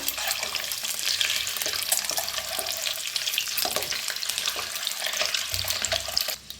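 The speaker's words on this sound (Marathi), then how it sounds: "तेल बी आपलं चांगलं गरम झालेलं आहे. तर अंडा फ्राय करून घेऊया." Eggs fry in well-heated oil for an egg curry, giving a close, steady crackling sizzle with small irregular pops and no talking.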